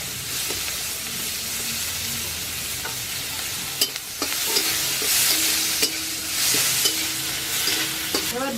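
Onions frying in hot oil in a pan after dried red chillies and bay leaves, for a village-style hilsa and eggplant curry: steady close sizzle and hiss with occasional clinks and stirring scrapes, no talking.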